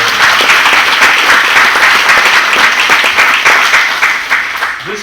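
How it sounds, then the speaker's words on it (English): An audience in an aviation museum room at Santa Monica applauds for David, a loud, dense burst of many hands clapping that holds steady and then begins to fade. "Round of applause for"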